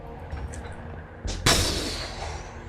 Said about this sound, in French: Ça explose dans un feu d'artifice.